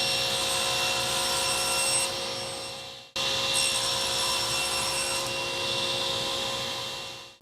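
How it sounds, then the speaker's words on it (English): Saw running a Freud Diablo blade cross-cuts white oak: two loud, steady whining cuts, each ending in a quick drop-off, heard alone without talk. "And then we'll look at cross-cutting performance, starting with the white oak."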